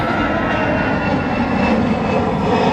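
An EasyJet jet airliner climbing out after takeoff at Manchester Airport gives a loud, steady roar of engine noise, close and continuous throughout.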